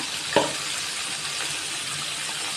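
Ground spices frying in hot oil for a chicken and potato curry, a steady broadband sizzle throughout with one brief clink near the start, no voices.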